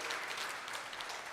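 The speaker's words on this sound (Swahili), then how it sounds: "Jamani, makofi tena mengi kwa Madam Maida Waziri." Applause for Madam Maida Waziri at a young engineers' forum in Tanzania: a steady, dense wash of clapping from an audience, even and sustained throughout, with no voices on top.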